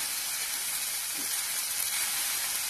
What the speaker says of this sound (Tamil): நம்ம இதை ஃபுல் அண்ட் ஃபுல் நம்ம நெய்ல தான் வதக்க போறோம்